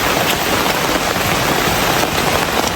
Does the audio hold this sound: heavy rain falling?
yes